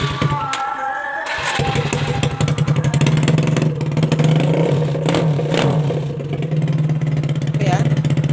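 Kawasaki KLX 150 dirt bike being started after repair of a dead electrical fault, with the exhaust apparently off: a starter crank, then the single-cylinder engine catching into a loud rough idle with repeated revs, close by, no talk.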